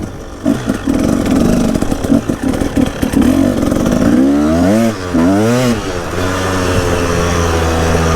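Husaberg TE 300 dirt bike engine revving loudly up and down at close range, rising and falling pitch sweeps over a steady running drone, with no talk.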